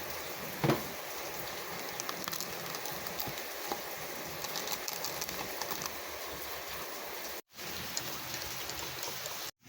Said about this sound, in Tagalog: Medyo humina na yung ulan